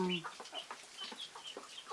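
Young chickens cluck in short, repeated, fairly faint calls at close range, with no other sounds.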